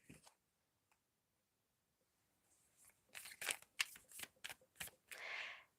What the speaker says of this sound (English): Okay, I shuffled it again.